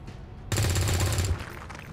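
A soldier fires an automatic burst from a rifle in XCOM 2, a loud, dense rattle of rapid shots lasting under a second, followed by a fading echo.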